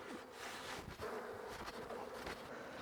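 Bees buzz faintly at the bottom of a hive box, a soft, steady hum with a few rising whines from nearby bees.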